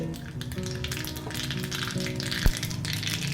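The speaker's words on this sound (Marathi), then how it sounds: "तेल व्यवस्थित गरम होऊ द्यायचं. थोडीशी मोहरी तडतडली त्याच्यामध्ये" Mustard seeds crackle in hot oil in a tempering pan for rava dhokla, a busy steady sizzle with scattered pops and one sharp louder crack near the end, close and alone without speech.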